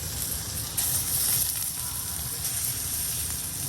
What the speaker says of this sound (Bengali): মাংসগুলো এখন ভেজে নিব, ভালো করে সুন্দর করে ভেজে নিব